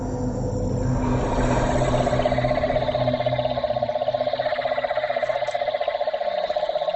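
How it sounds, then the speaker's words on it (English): A mob of cane toads calling together outdoors at night, a dense continuous trilling chorus that pulses steadily, loud and close, with no talk. "Over there you can hear a mob of cane toads calling at the moment."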